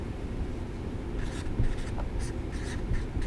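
Pen or chalk scratching out a math derivation in a differentiation lesson, continuous scraping strokes over a steady background hiss, close and fairly loud, with no talking.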